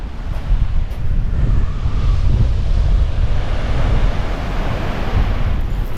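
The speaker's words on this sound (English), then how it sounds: "It's actually windier down here, folks, than on the cliffs." Strong wind roars across the beach at Durdle Door on the Jurassic Coast, a loud, steady rumbling buffet against the microphone with surf mixed in, no voices.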